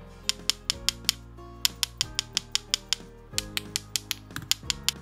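A metal Mito Gear 20 smartwatch case is tapped in a rapid, uneven run of about twenty sharp, close, bright clicks with a slight ring, over a faint steady hum and with no talking.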